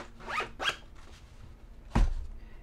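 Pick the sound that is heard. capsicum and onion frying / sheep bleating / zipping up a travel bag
zipping up a travel bag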